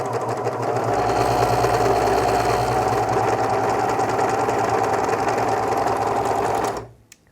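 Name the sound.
Babylock Protege serger sewing and cutting fabric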